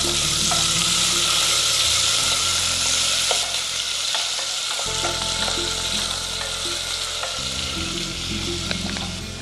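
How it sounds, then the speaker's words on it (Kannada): Onion drops into hot oil in a pressure cooker and fries with a loud, dense, continuous sizzle up close, a low hum underneath and occasional faint clicks, with no one talking. "ಸೊ ಎಣ್ಣೆ ಕಾದಿದೆ, ಈರುಳ್ಳಿ ಹಾಕೋತೀನಿ. ಸ್ವಲ್ಪ ಹುರ್ಕೋಬೇಕು."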